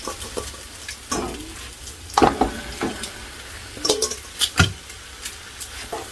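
Raw catfish pieces drop into hot masala in a pot for Florida catfish curry, setting off a close sizzle with several sharp splashes and clatters against steady frying.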